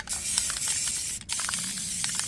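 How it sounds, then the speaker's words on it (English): Rust-Oleum spray paint hissing from an aerosol can in a steady, close spray, broken by one short pause before the spraying resumes. "I just spray paint right over it."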